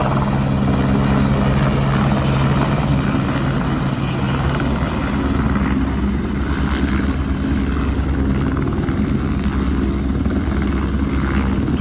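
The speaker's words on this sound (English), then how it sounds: "We're going for a helicopter ride" A helicopter's rotor and engine drone loud and close during a ride over the Alberta Rockies, a constant thudding roar that holds steady throughout.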